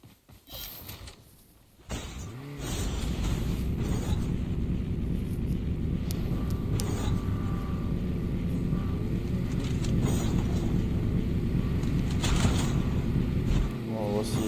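After some early muffled voice, a steady car engine hum from Call of Duty Mobile gameplay drones on continuously, with occasional faint clicks and rattles.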